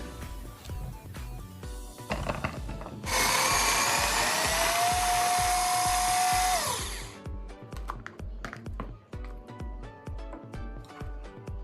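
A small AGARO mixer chopper chops ivy gourd in a home kitchen, a loud, high whirring motor burst lasting about four seconds, preceded and followed by background music.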